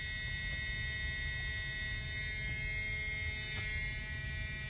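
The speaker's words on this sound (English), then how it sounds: "I could hear the fan going." Heater blower motor fan of a Ford Econoline E250 van running with the key on and engine off, a steady electric whir and hum holding constant throughout, no voices.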